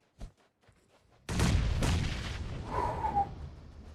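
A grenade blast in PUBG Mobile during an esports finals match: a sudden loud boom after a near-silent start, then a long rumbling tail that slowly fades.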